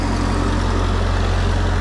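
A mini forklift engine idles high and steady, a constant low rumble filling the whole stretch with no talk over it.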